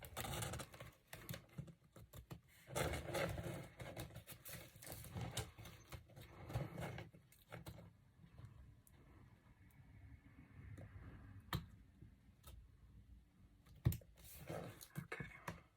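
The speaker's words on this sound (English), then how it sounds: "now I'm going to take these little scissors and I'm going to go around" Small scissors trim around the edge of paper for a handmade journal, producing a quiet, irregular series of close snips and crisp paper rustles, clustered in bursts with brief pauses between.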